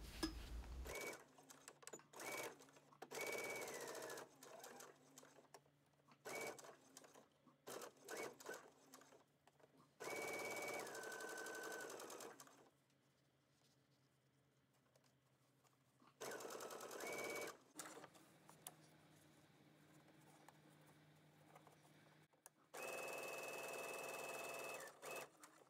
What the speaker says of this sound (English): You are going to sew from here to here.